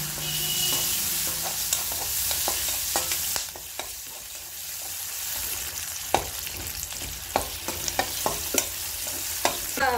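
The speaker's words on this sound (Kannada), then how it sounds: "ಅದಿವಾಗ ಚಟಪಟ ಅಂದಮೇಲೆ ಈರುಳ್ಳಿ ಹಾಕ್ತಾ ಇದ್ದೀನಿ." Onions fry in spluttering oil in a pan while raw jackfruit palya is being cooked, with a continuous close sizzle broken by sharp pops and crackles that grow more frequent toward the end.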